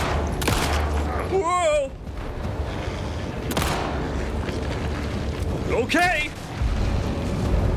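Shotgun blasts in the video game Alan Wake II, loud booming shots at roughly half a second, three and a half and six seconds over a steady game soundscape, with players exclaiming between them.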